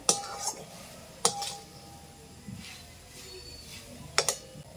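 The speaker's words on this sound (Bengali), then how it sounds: "এরপর আমি কড়াইটা নামিয়ে নেব উনুন থেকে।" A wok is lifted off the stove after cooking a jaggery coconut syrup, giving a few sharp metallic clanks and scrapes against a quiet kitchen background.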